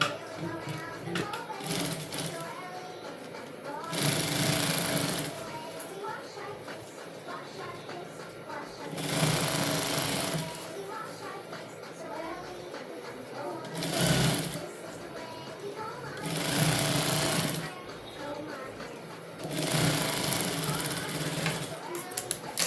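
A sewing machine stitching the second shoulder seam of a garment, running in repeated bursts of several seconds separated by brief pauses, fairly close, with faint background voices.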